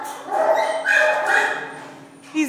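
A shelter dog close by gives a string of whiny, yipping vocalizations that rise and fall, then ends with a short sharp bark.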